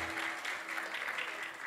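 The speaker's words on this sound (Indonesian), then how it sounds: "Boleh kasih tepuk tangan yang lebih luar biasa lagi dong saudara-saudara yang kasih Tuhan" A church congregation claps during a service, a moderate, steady wash of many hands from a crowd somewhat distant, with no voices over it.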